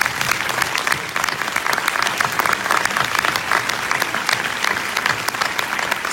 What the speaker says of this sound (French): On peut les applaudir derrière.